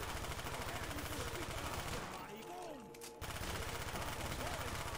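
Rapid automatic gunfire in a zombies video game rattles in dense bursts, stopping briefly near the middle before resuming at full intensity.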